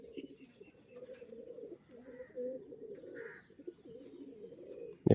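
Andhra, Arshad and Kalanka breed pigeons coo in low, soft, rolling murmurs inside a loft, fairly close, with a faint steady hum behind and a sudden knock at the very end.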